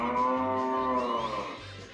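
Cattle on a farm let out a long, loud, drawn-out moo that fills the moment close by, with no talking over it.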